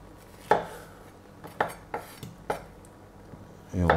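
A knife cutting fresh pineapple into chunks on a board, several sharp separate clacks at uneven intervals, close and fairly quiet, ending with a heavier clatter.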